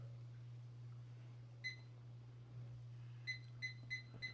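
Kitchen timer being set, a near series of short, sharp electronic beeps, one single press followed by four quick ones, over a low steady background hum.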